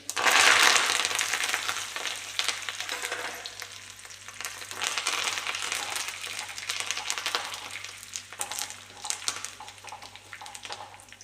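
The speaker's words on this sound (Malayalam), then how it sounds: "കടുക് പൊട്ടി വരുന്നുണ്ട്. കറിവേപ്പിലയും കൂടി ഇടാം." Continuous crackling and sizzling of mustard seeds and curry leaves frying in hot oil, loudest at the start and then settling to a steady popping hiss.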